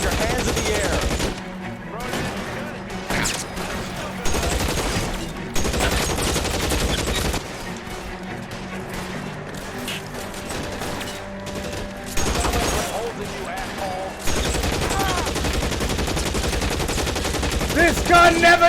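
Dense gunfire from L.A. Noire rattles in rapid bursts and repeated loud shots across the whole stretch, with brief pauses between volleys and a voice speaking underneath.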